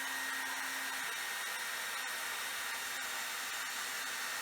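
A hair dryer blows steadily and loudly at close range, aimed at melting crayon, its whooshing airflow holding one unbroken tone throughout.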